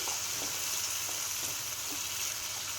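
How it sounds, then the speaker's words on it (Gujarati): Onions and tomatoes sauté in oil for chole masala, giving a steady, close, even sizzle that runs the whole time with faint stirring clicks and no voices. "આપણે તેલમાં થોડીક વાર એમને જ સાતળવાનું છે"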